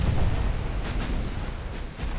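Battleship 12-inch main guns fire in a naval combat game set in 1904, heard as a steady low rumble punctuated by a few sharp, distant-sounding blasts.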